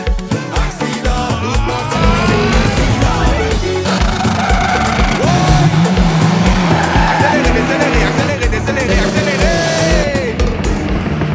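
Race cars run hard on a track at the RUN 200 event, engines roaring loudly and continuously with tires squealing and skidding, the sound dense and close throughout with no talk.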